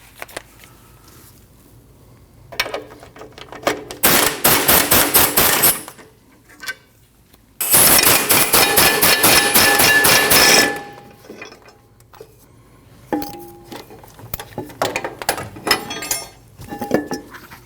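Socket wrench work on the two 24mm caliper bracket bolts of a Nissan NV2500 van's rear brakes: bursts of metallic clinking and ratcheting in two long loud runs, with lighter clicks and taps between them, no talk.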